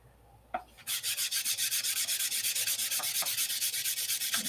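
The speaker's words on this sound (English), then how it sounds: "We ain't done sanding by a long ways." A metal flap from a P-47 aircraft is hand-sanded in quick, even back-and-forth strokes, close and rhythmic, after a brief knock at the start.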